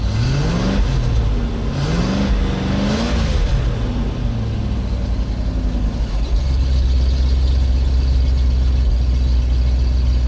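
A Land Rover Defender with a GEMS V8 conversion revs hard and loud up close, its engine note sweeping up and down several times before settling into a steady, heavy drone, with a slight occasional miss under acceleration.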